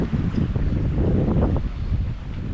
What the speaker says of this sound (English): Picked up some nice wind out here.